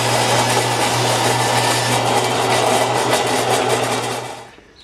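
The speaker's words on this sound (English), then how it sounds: "that was a painful experience on the old Delta bandsaw" An old Delta bandsaw cuts thick hardwood with a loud, strained, steady whine and rasp close by, cutting off abruptly at the end.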